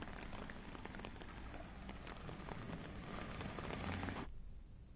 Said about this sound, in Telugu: ఈదురుగాలులతో ఉరుములు మెరుపులతో వర్షం కురిసింది